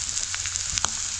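Onion, coconut and masala sizzle in a pan over a wood-fired chulha, a continuous close hiss of frying with a few soft stirring scrapes and crackles.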